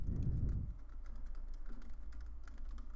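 HTML being typed on a computer keyboard, faint irregular clicking keys running steadily over a low background rumble, with a brief louder low thump at the start and no voices.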